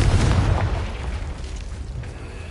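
A Confringo blasting spell explodes in a video game, a loud booming burst at the start that rolls into a sustained rumbling decay, with no voices.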